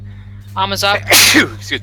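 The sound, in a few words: sneeze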